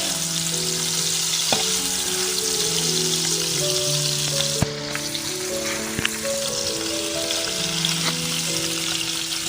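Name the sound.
frying spice mixture for Goan prawn chops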